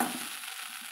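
Curry leaf masala idli being stirred in a hot pan, a brief, steady sizzle with soft scraping of the spoon, close and alone.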